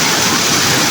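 Steady, loud rush of a small stream spilling and overflowing where children swim, filling the whole moment with continuous broadband water noise and no voices.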